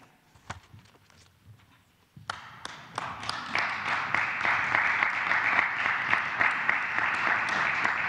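Applause at the appointment of a new Secretary of Economy in Mexico, the president among those clapping. A few scattered claps come first, then the clapping swells into steady, dense applause that keeps going to the end.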